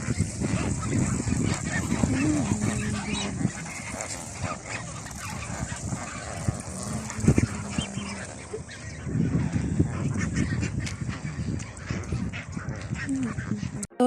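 A flock of flamingos at Walvis Bay, Namibia, on the Atlantic coast, gives a steady, dense chorus of honking, goose-like calls over constant background wash, with a few louder nearby calls standing out.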